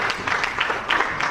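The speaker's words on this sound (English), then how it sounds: "Clap for him, clap for him," An audience at an anti-corruption commission retreat in Sierra Leone claps in a brief, moderately loud burst of applause.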